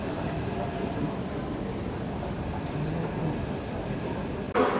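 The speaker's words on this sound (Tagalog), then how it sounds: "There goes the first MRT ride." A Taipei MRT metro train rolls through a station with a steady, loud rumbling roar that carries throughout, ending in a brief sharp clatter.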